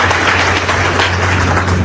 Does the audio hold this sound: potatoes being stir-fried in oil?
no